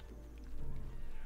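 A horse's hooves clip-clop in the farming video game Graveyard Keeper, a short run of soft steps over low steady game ambience, growing slightly fuller partway through.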